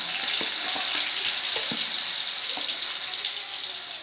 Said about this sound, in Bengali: কড়াই বসিয়ে দিয়েছি কড়াইটা গরম হয়ে গেছে এ দেখুন আমি ছোটো ছোটো করে বেগুন কেটে রেখেছি একদম ছোট্ট ছোট্ট করে এই বেগুনগুলো আগে একটু ভেজে নেব